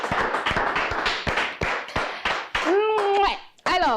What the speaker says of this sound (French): Recevez avec moi, avec beaucoup d'acclamations, notre sœur Bénédicte Akon